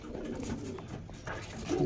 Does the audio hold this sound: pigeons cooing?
yes